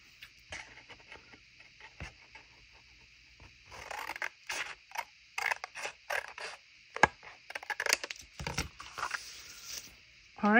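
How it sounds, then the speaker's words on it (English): Scissors cut a piece off paper for a Post-it notebook, a run of crisp close snips and scraping rustles in irregular bursts, growing busier toward the end. "I'm going to cut this piece off"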